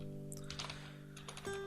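A few soft keystrokes on a computer keyboard, quick and light, set over a steady electronic hum with no voices.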